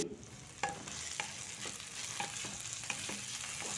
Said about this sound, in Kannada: ಅದಕ್ಕೋಸ್ಕರ ಇದೆಲ್ಲ ಫ್ರೈ ಮಾಡ್ತಾಯಿದ್ದೀನಿ